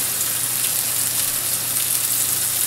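Seasoned-side-down Norwegian salmon fillet searing in a hot pan, giving a steady, loud, close sizzle of spattering oil that holds evenly throughout with no talking.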